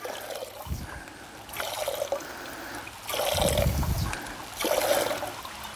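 Water trickles and splashes in uneven surges from a hand-pumped group water filter used on expeditions to purify river water, the flow swelling and easing in pulses, close and alone.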